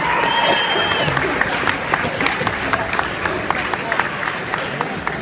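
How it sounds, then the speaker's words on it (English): An audience claps and applauds for a school principal at a talk, a dense, steady patter of many hands that holds evenly throughout with a few sharper claps standing out. "And a big, big round of applause"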